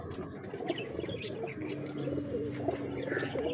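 Rampuri pigeons coo in low, rolling, repeated calls close by, with soft chirps and background rustle throughout.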